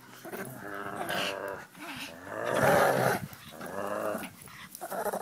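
A Chihuahua growls steadily while tugging on a dog toy in a game of tug of war, the rumbling continuous and close, with a person talking over it.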